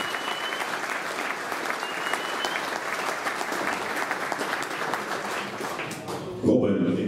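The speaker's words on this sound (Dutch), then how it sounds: "En ik wil graag een applaus voor Robin Brugman" A crowd gives steady, dense applause for Heracles Almelo team captain Robin Brugman. It continues evenly at a moderate level and ends with a brief louder burst and a clunk.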